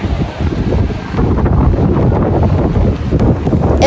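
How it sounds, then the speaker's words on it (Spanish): Strong wind blows at the seafront promenade in Donostia beside a beach with large waves, roaring as loud continuous microphone buffeting with surf underneath. "Hace bastante viento"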